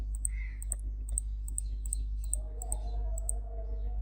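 A computer mouse clicks in a series of small, sharp ticks spaced irregularly over a steady low electrical hum.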